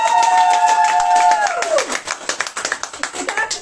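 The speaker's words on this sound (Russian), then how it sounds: "Еще раз аплодисменты" Rhythmic group clapping at a team awards ceremony, loud and close, with a sustained sung or musical tone sliding downward over it early on before the claps continue alone.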